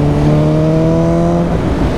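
A BMW S1000RR motorcycle accelerating hard in a drag race, its quick shifter faulty and making the bike hesitate after shifts; a loud, close, steady engine drone that rises, then briefly breaks up near the end.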